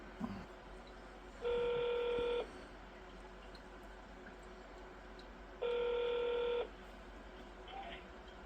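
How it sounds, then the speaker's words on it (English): A telephone being dialed, sounding two separate bursts of touch-tone DTMF beeps about a second long each, loud and close over a steady background hum, with no voices. "I can bore you with dialing the phone and all that stuff"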